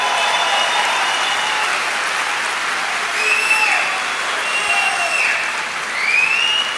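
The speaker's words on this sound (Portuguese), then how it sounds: "primeiro ao professor Olavo de Carvalho, aqui uma salva de palmas ao nosso grande mestre" An audience at a political speech in Brazil bursts into sustained, loud applause, a dense wash of clapping with a few cheers and whistles rising over it.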